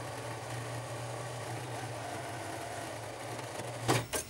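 A sewing machine stitches the seam of a ruffled dress with a molded bust cup, humming in a steady close drone, then stops with a couple of clicks at the end.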